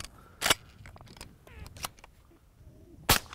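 Suppressed pump-action shotgun fired at clay targets with a SilencerCo Salvo 12 suppressor, giving two sharp muffled reports, one early and one near the end, with faint handling clicks in between.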